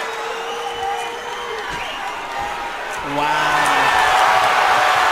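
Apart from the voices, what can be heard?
crowd cheering at an MMA fight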